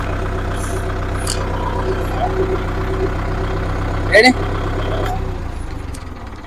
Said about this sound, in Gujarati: જો તમે ટ્રેક્ટરનો અવાજ તમે જો એકદમ સ્લો